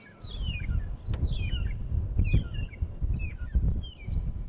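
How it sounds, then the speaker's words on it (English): A long-tailed shrike gives a repeated series of sharp, descending chirping calls, about four phrases in a row, over a low rumbling background. "Like most bird calls, beautiful sound."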